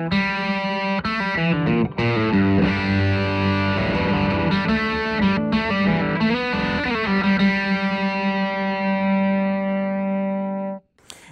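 An electric guitar played through an Ethos TWE-1 overdrive pedal strikes a distorted chord, then a short note run before a sustained ringing chord that cuts off abruptly, loud and alone.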